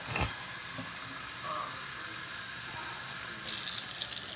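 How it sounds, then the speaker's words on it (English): Water pours from a kitchen tap while being added to a pot of homemade spaghetti sauce, a soft steady hiss of running water that swells louder near the end, with no voices. "I'm going to start adding my water,"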